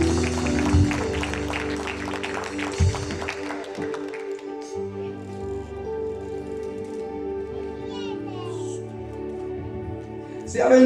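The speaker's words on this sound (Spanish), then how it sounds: "Den un aplauso al Cristo de la gloria" A church congregation at an evangelistic campaign service claps in a burst of applause over sustained keyboard chords; the clapping thins out after a few seconds, leaving the music ringing on.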